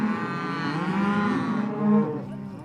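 Cattle bellow in a long, continuous moo at a ranch branding, a loud, near call swelling and sliding before a second bawl rises near the end, with no talk over it.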